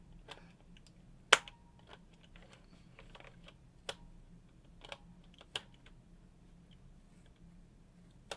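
Sparse mechanical keyboard keystrokes with German G80-3000 doubleshot keycaps: a handful of separate clicks and clacks, one sharper louder hit early, spaced irregularly over a faint low hum, no talking.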